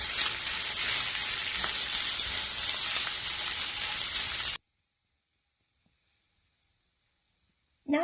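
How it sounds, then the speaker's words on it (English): Shrimp frying in a pan with 2 tablespoons of oil for stir-fry noodles, a loud steady sizzle for about four and a half seconds that cuts off abruptly into near silence before sizzling briefly returns at the end. "I'm going to put in the shrimp. And we're just going to cook the shrimp until it's cooked."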